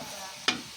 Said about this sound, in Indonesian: Aduk-aduk sampai tercampur.